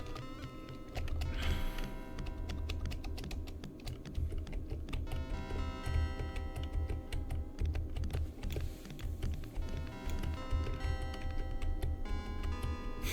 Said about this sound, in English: it's pretty much typing for the rest of the game